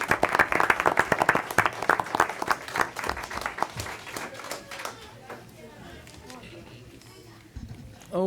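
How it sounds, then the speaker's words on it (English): A school board meeting audience applauds the winners, a dense round of clapping from many hands that gradually thins and fades out, with some chatter in the room. "Let's give all the winners another round of applause,"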